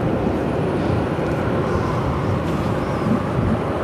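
A Southwest Airlines Boeing 737-800 jet at Phoenix airport gives off a steady, broad roar of engine noise that holds at an even level throughout.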